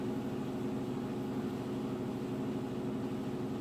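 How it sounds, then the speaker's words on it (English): Washing machine running nearby, a steady loud mechanical hum with a rhythmic churning pulse that continues throughout with no talk. "My apologies for the background noise of my washing machine."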